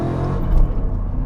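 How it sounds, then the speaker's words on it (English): A Lexus with a swapped-in V8, built as a drift car, gives a brief, loud, deep engine roar that swells and falls in a quick rev. "Cannot believe how quickly this engine revs."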